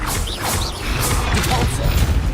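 Fiery Confringo blast spell cast in the video game Hogwarts Legacy, a dense burst of crackling, whooshing game effects layered over a heavy low-end rumble, loud and continuous with no talk.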